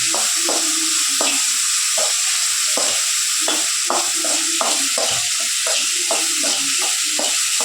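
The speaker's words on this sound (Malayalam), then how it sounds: "നന്നായിട്ട് എണ്ണയിലിട്ട് വാട്ടിയെടുക്കണം" Ingredients sauté in oil in a pan for egg rice, with a steady loud sizzle throughout and a utensil stirring and scraping in a regular rhythm on top.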